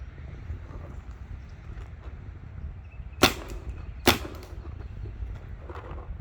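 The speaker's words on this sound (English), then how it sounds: "So go ahead and shoot a few on the chrono for you." Two sharp airsoft shots from a Vampire BL TREX rifle fired over a chronograph, close and crisp, spaced about a second apart against a low steady background rumble.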